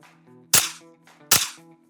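A Kel-Tec Sub-2000 carbine fires two sharp, loud shots about 0.8 seconds apart, each with a short decaying echo over a faint steady background hum.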